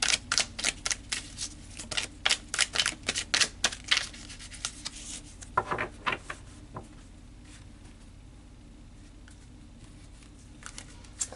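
Tarot cards are shuffled and pulled, a quick run of crisp riffling flicks and snaps over the first few seconds, then sparser soft card handling and quiet pauses.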